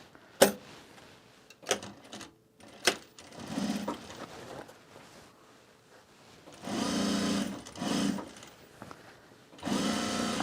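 Sewing machine stitching a garment duffle bag, with several short bursts of whirring needle runs broken by clicks and pauses, close and fairly quiet.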